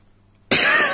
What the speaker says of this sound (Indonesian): Mohon maaf ya, batuk-batuk teman-teman